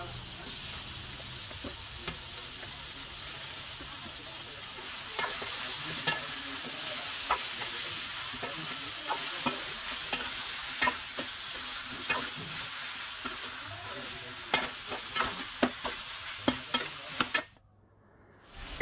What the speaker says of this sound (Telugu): అవన్నీ ఆయిల్లో బాగా వేగినాక ఇప్పుడు నాటుకోడి పీసెస్ దాంట్లో వేసి